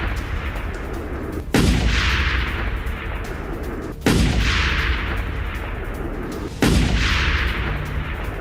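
Three heavy blasts from Israeli air strikes and missile attacks on a residential area of north Gaza, spaced a few seconds apart, each a loud sharp boom rolling into a long rumbling decay over constant background noise.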